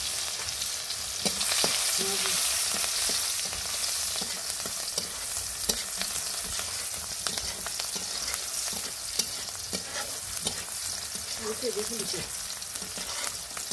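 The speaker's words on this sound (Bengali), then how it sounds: "পেঁয়াজ ভেজে নিব।" Onions frying in a pan, a continuous close sizzle with frequent spatula scrapes and stirring clicks, loudest at the start and steady throughout.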